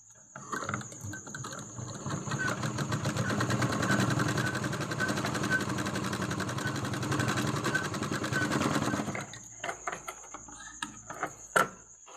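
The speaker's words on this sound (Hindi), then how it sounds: "यहाँ पे सिलाई लगा लेंगे एक" Sewing machine stitching cloth for a school bag belt, a steady rapid mechanical whir running for several seconds, then stopping, followed by a few soft handling clicks.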